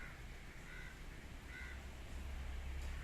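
Crows caw in a few short, hoarse calls against a steady outdoor background hum, at moderate distance with no talking.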